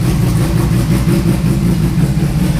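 Loud, steady idle from a 1000 hp turbocharged Porsche race car, a deep, even, throbbing rumble held close for the whole stretch with no talking.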